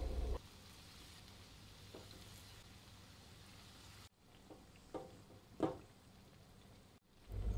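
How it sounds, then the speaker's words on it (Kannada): Potato balls dropped one by one into oil heated over a medium flame, a steady soft sizzle with a few brief louder crackles and splashes as each piece goes in. "ಸೊ ಈಗ ಮೀಡಿಯಮ್ ಫ್ಲೇಮಲ್ಲಿ ಎಣ್ಣೆ ಬಿಸಿ ಆಗಿರೋದಕ್ಕೆ ಒಂದೊಂದನ್ನು ಹಾಕ್ಕೊಳ್ತಾ ಇದ್ದೀನಿ."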